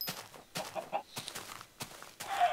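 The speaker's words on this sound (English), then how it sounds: "Bunch of chickens." Chickens in the Minecraft video game cluck in a string of short, clipped bursts roughly every half second, fairly close and clear, with no talking over them.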